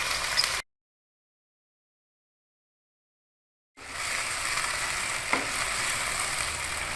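Green onions fry with chicken and chickpeas in a pan for a Lahori murgh chanay dish, giving a steady soft sizzle and stirring scrapes, broken by a gap of silence in the middle.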